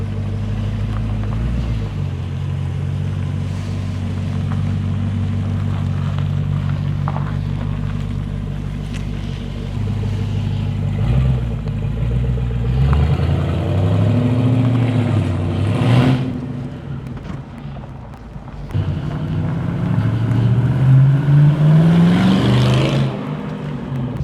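A Holden Commodore with an LS3 engine drives on the road, its engine droning steadily and close, then revving up in rising sweeps toward the middle and again near the end.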